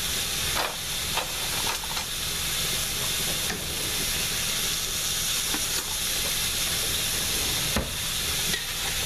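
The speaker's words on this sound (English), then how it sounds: "I'm just going to try and move it around the skillet." Chicken frying in a skillet with a little soy sauce, a loud continuous hiss and sizzle running throughout, broken by occasional short scrapes as the pieces are moved around the pan.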